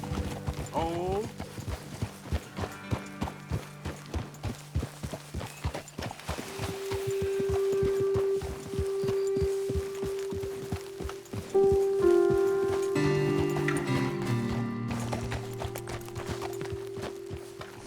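Horse hooves clip-clopping at a steady riding gait on a path in the video game Red Dead Redemption 2, loud and rhythmic, slowing and breaking up near the end, with game music and voices talking over the later part.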